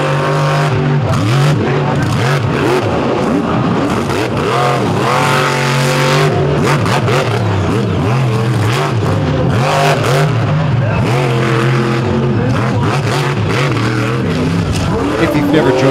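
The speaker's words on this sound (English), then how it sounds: "the trucks make essentially two laps around the track" Racing trucks lap a wild, unique dirt action track at the Charlotte Back to School Bash 2024, engines roaring loudly and continuously throughout, with revving surges and an announcer talking over the noise.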